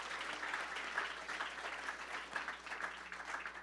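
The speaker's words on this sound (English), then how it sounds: "Give the Lord a round of applause" Congregation applause at a prayer conference church service, faint and distant, a continuous even patter of many hands with a low hum beneath.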